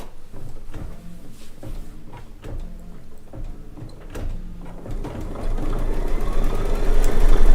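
An embroidery sewing machine stitches a tack down stitch with a rapid mechanical chatter and repeated motor pulses, close and moderately loud, with the hum building louder toward the end and no talking.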